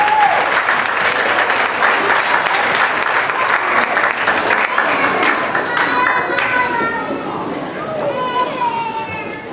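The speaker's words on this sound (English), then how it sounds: "Give them one more round of applause" An audience at a church Grand Ole Opry show applauds the singers, loud sustained clapping mixed with children's chatter and crowd voices, fading slightly toward the end as cheerful shouts and talk continue.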